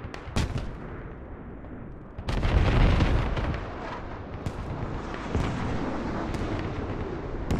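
Command rocket barrage strikes in a military video game set in Al Basrah: a rapid cluster of heavy booming explosions, loud and close, followed by a dense rumbling roar of overlapping blasts that keeps rolling.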